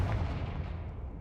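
In the Hogwarts Legacy video game, a Confringo blasting spell goes off as a single short, booming explosive burst that rumbles heavily in the low end and fades within about a second.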